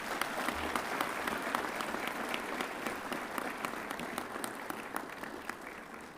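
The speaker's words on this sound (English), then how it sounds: "Can we start this with a warm round of applause for Justice Kaul" Audience at a farewell function for Justice Sanjay Kishan Kaul giving a warm round of applause, many distinct claps in a dense, sustained patter that gradually thins toward the end.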